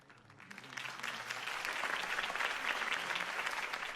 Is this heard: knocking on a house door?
no